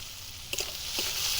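Chopped tomato and cumin paste sautéing in a pan for a rohu fish and khamalu yam curry, giving a steady soft sizzle with a few faint stirring scrapes throughout.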